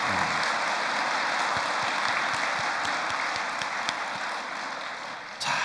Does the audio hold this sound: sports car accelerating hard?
no